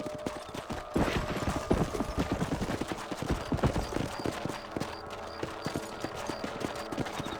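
In the Red Dead Redemption video game, a ridden horse clip-clops in a quick, steady hoofbeat rhythm, loud and close, over soft mechanical rattles and tack noise.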